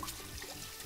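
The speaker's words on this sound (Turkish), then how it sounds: "Sudan geçirdim." Running water splashes steadily over rice being rinsed for eggplant pilaf, a continuous close wash of pouring and trickling.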